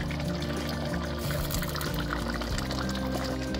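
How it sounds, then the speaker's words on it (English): A cooked mixture is poured into crockpot chili, a thick, continuous liquid pouring and gurgling sound, close and steady with small shifts in pitch. "It is ready to be poured over here into our chili."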